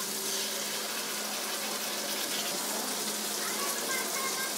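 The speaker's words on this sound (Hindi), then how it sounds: "दही वाले कटोरी में थोड़ा पानी डाल के उसे इस सब्जी में डाल दिए हैं" Water from a curd bowl pours into a pan of potato and cluster-bean curry as it cooks. A steady, close splashing stream runs without a break and with no talking.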